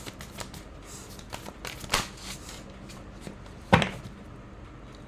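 Tarot cards are drawn and shuffled up close: soft papery rustles, with a couple of sharper snapping riffles standing out.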